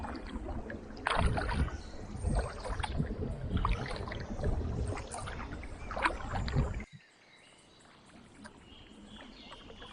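A kayak is paddled on Loch Chon, a Scottish loch, with water splashing and sloshing from paddle strokes and hull movement, loud and close for about seven seconds, then dropping to faint wind and water.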